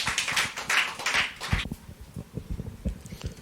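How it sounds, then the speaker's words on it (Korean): A seminar audience applauding to welcome a doctor presenting on the gospel of the cross, a brief burst of close, dense clapping that fades within two seconds, followed by scattered footsteps and knocks. "큰 박수로 환영해 주시기 바랍니다"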